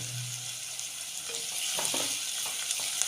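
Small shallots sautéing with green chillies and curry leaves in a pan for fish curry give a steady, close sizzle, with a few soft stirring scrapes near the end and no talk.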